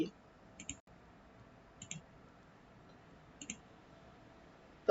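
Computer mouse clicks: three quiet, evenly spaced pairs of sharp taps in a near-silent room, ending in a louder click at the close.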